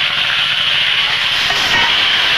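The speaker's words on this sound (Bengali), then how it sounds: "এবার এই সবজিগুলো আমি দিয়ে দেব।" Vegetables dropped into hot oil already tempered with dried red chilli and torn bay leaves for Bengali shukto, hissing in a loud, steady sizzle close up with no voices.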